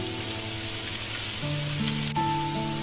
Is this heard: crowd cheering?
no